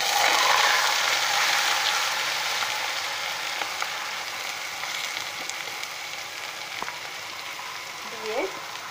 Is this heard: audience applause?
no